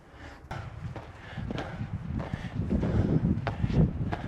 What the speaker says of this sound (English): And the wind's picking up a little bit, but not too bad.